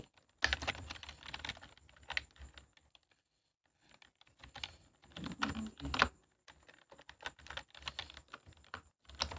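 Someone types on a computer keyboard in irregular bursts of close, crisp key clicks, with a quiet pause partway through before the tapping resumes.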